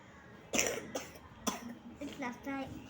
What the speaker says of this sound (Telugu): అది దగ్గు వస్తుంది